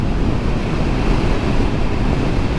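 Heavy wind roars over a rider on a Yamaha MT-10 2022 motorcycle at speed, a loud, constant buffeting rush that masks every other sound.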